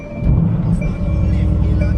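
A 2018 Mercedes-AMG GT C Roadster engine fires up close by. A deep rumble catches after a brief moment and settles into a steady, throaty idle.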